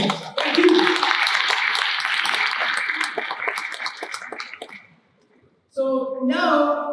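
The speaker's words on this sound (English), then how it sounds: "Another round of applause for them, please" Sustained applause from an audience at a Pan Asia 2024 event in Wellington Parliament after a classical festival dance, steady clapping for several seconds that fades out, then a voice speaks.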